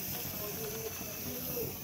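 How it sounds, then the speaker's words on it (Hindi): A pressure cooker on a gas stove releases a continuous, steady hiss of steam, close and even throughout. "खाना बन रहा है कुकर में"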